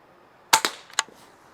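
Barra Junior 1866 air rifle fired offhand: two quick sharp cracks close together, then a third snap about half a second later, each short and crisp against a quiet outdoor background.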